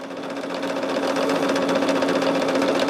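A sewing machine quilts a bag top in quarter-inch lines, running as a steady, fairly loud mechanical whir with a fast, even stitching rhythm from start to finish.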